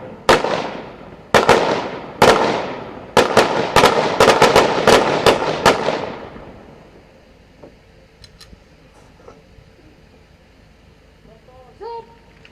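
Live gunfire from an Elite Force Punjab Police commando firing demonstration at a passing-out parade: a rapid series of loud, sharp shots in uneven bursts for about six seconds, then quiet with faint distant sounds.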